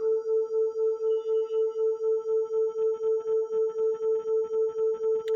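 Two steady tones at 440 Hz and 444 Hz play together, producing rapid, even 4 Hz beats, a regular pulsing throb throughout, clear with no other sound.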